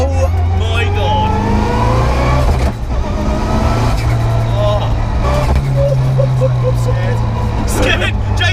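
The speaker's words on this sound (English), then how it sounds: "the sequential on its own is whining so much that I'm having to shout over it" Mitsubishi Evo 6 rally car with sequential gearbox and anti-lag, a loud engine drone with rising and falling whining gear tones, recorded inside the car while a person talks loudly over the noise.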